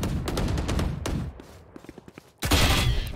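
Phantom rifle firing in the game Valorant, with rapid bursts of loud gunshots, a brief lull of scattered shots, then another loud blast near the end.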